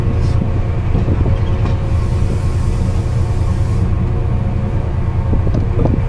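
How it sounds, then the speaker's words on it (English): Onboard rumble of a passenger train hauled by class 68 locomotive 68016 Fearless near Norwich, a steady low drone of wheels and motion with faint rattles throughout, no talking. "So this train now goes out of service."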